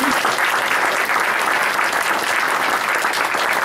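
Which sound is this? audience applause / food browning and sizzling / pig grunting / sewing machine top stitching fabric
audience applause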